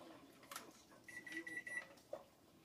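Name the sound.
kitchen timer going off during pressure canning of meat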